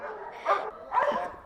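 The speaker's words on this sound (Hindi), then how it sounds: "इनको भौंकना सिखा रहे हैं" A trained dog at a dog training and security centre gives two separate short barks with a whiny edge, close by and clear, with a slight pause between them.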